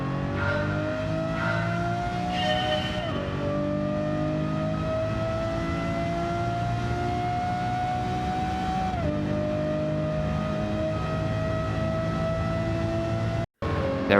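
Lamborghini engine in the video game Gran Turismo 7, loud and continuous, revving up steadily with two clear upshifts where the pitch drops before climbing again, heard alone.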